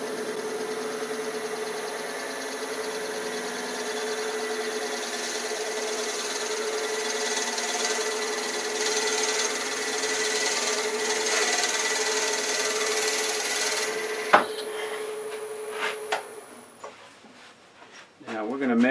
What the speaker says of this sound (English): Let the drill do its work.